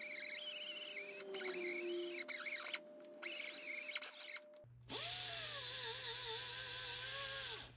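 Power drill spinning a soft Scotch-Brite pad against a BMW E46 engine housing, a loud steady whine with shifting squealing tones, briefly dipping, then resuming with a higher, harsher pitch through the end.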